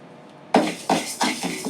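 A quarter cup of rice dry-roasting in a pan for traditional urad dal balls, stirred with a utensil: about five distinct close scraping, rattling strokes after a short silence, with no talk.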